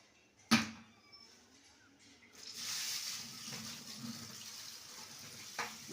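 Shelled green peas are swirled and rinsed in a pot of water, with a sharp clatter at the start, then a soft, steady splashing and sloshing of water close by.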